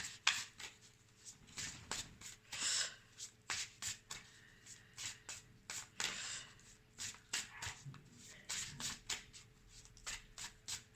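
Tarot cards shuffled by hand and drawn, with repeated riffling and sliding bursts in an uneven rhythm and soft taps between them, close and quiet with no talk.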